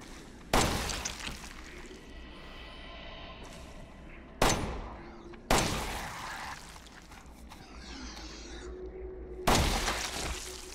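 Four loud gunshots ring out in Resident Evil 7, each a sharp blast with a decaying echo, spaced a few seconds apart over quiet horror-game ambience.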